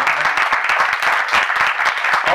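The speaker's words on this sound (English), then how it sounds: "please give them a huge round of applause." Loud, close audience applause for performers at a music event, dense rapid clapping from a crowd sustained throughout.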